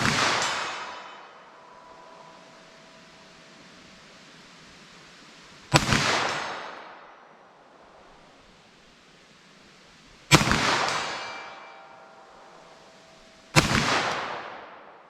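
Three sharp, loud 9mm pistol shots fired with Winchester M1152 ammunition at an outdoor range, each a crisp crack followed by a long fading echo, spaced several seconds apart after an earlier decaying report.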